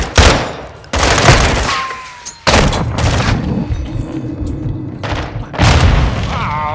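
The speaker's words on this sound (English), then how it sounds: "Killed myself with a grenade, man" A grenade goes off in Call of Duty Modern Warfare 2 amid loud booming blasts and bursts of gunfire, with heavy thumps recurring over a few seconds.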